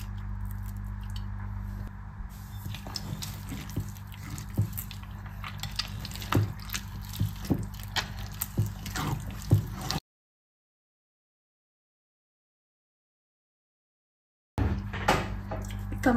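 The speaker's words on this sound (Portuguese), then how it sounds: "E aí eu vou dar uma leve misturadinha nesse creme aqui." Cream for a coconut cake with plums is stirred by hand, giving soft, close, wet squishing and dripping sounds in a loose rhythm, broken by a stretch of silence.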